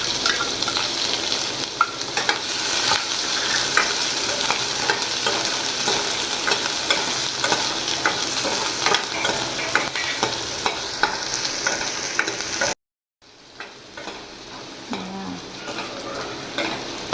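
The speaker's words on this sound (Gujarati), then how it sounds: "અને હવે આપણે એમાં ડુંગળી નાખી દઈશું." Sliced onions sizzle steadily in hot oil with asafoetida and chillies while a spoon stirs through them. The frying holds loud and even, breaks off in a short silence, then comes back softer.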